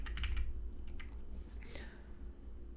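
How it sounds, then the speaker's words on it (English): Keys clatter on a computer keyboard in a short, quiet flurry of close taps, with a soft faint voice in the background. "Let's type in maternity."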